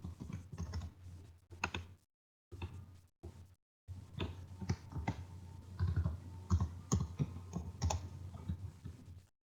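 Username and password being entered on a computer keyboard, with soft irregular key clicks in short runs and a couple of brief pauses, close and fairly quiet with no voices.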